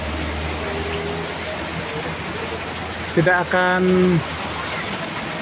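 Heavy rain pours steadily and evenly at a high-speed railway construction site on the Jakarta–Bandung line, while someone speaks over the constant hiss.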